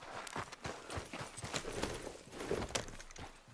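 Steady clip-clop of a horse's hooves in Red Dead Redemption 2, walking at an even pace over open ground, fairly quiet and close, with faint game ambience underneath.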